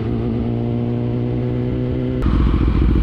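BMW S1000RR superbike on a highway: a loud, close engine drone with steady harmonic tone that shifts abruptly near the end into a rougher, louder roar, with no talking.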